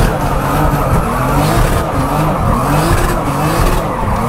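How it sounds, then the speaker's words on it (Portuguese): A Nissan 350Z drift car warms its tires at a drift championship, giving a loud, steady roar of engine and squealing, skidding rubber that holds for the whole stretch without letup, close to the listener. "Vamos esquentar os pneus."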